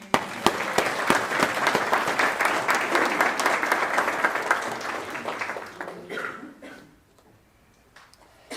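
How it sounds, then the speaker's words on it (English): Wedding guests at a ceremony break into a round of applause for the couple, a dense steady patter of many hands that fades out and leaves near quiet by the end. "ladies and gentlemen, we've got to give them all a round of applause"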